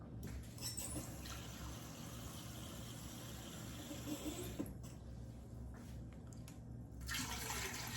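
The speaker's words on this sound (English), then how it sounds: "Pour it directly in." One cup of water pours steadily into an Instant Pot pressure cooker in a continuous splashing stream for several seconds, close by, with a brief lull and then a stronger rush near the end.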